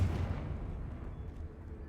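A Confringo spell blast goes off in Hogwarts Legacy, a heavy booming rumble with a deep low-end thud at the start that rolls on and fades slowly, moderately loud and without talk.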